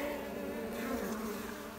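Steady, dense buzzing of many honeybees outside a hive, continuous and fairly close, with a low droning hum throughout.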